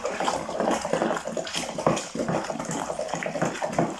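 Beer wort of water and brewing sugar is stirred vigorously in a vessel, giving continuous sloshing, churning liquid noise with irregular splashes and no talking.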